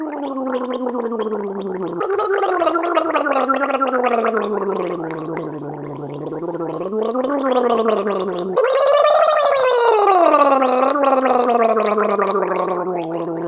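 Steady gargling of water with a voiced, wavering hum running through it, continuous for the whole stretch and rising in pitch near the end.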